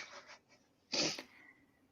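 One sharp, close human sneeze bursts out after a few faint breathy sniffs, then fades into quiet.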